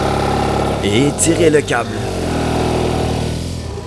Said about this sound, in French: J'ai donc utilisé le moteur pour faire tourner lentement la roue.